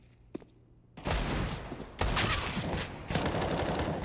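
Desert Eagle pistol fire in CS:GO on Mirage, an esports match: loud, harsh shots in three distinct bursts roughly a second apart, each with a sharp attack and lingering crackle.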